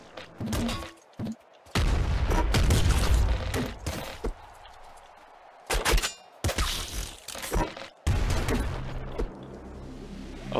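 Grenade explosions in the video game Nuclear Throne, a series of loud booming blasts and rapid gunfire bursts in irregular clusters, separated by brief quiet gaps.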